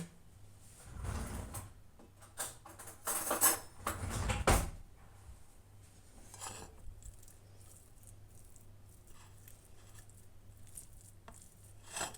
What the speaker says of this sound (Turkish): Evet şimdi peynirimi de çatalla ezeceğim.